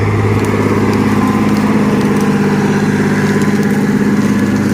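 A tractor engine runs steadily at close range, pulling a Tauras 3.4 disc harrow through a field being prepared for sowing, with a constant low drone and mechanical hum and no voices.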